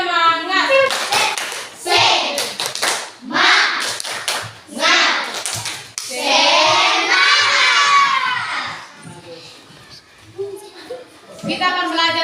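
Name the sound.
children doing the tepuk semangat clapping chant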